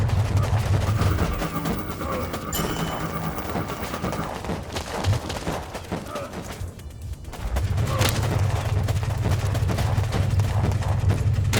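Rapid automatic gunfire from machine guns in the war strategy video game WarPips, sustained bursts over low rumbling battle noise, steady and fairly loud throughout.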